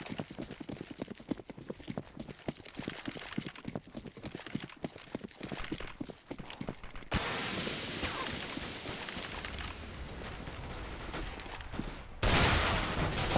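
Rapid gunfire in a CS:GO match on the Inferno map, heard as dense clusters of sharp cracks, then a steady roaring stretch and a louder burst near the end, with no talk over it.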